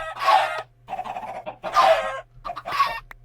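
Minecraft chickens cluck in short bursts, four clipped squawking calls separated by brief pauses over a faint steady hum.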